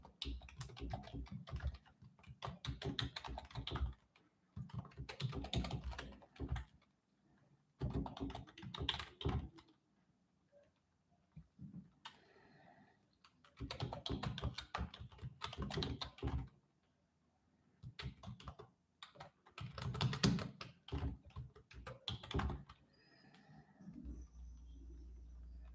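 Bursts of rapid typing on a computer keyboard come in irregular spells separated by pauses, close and clear, with faint bird cooing in the background.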